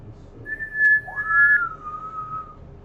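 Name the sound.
whistle imitating a hippo man whistling loudly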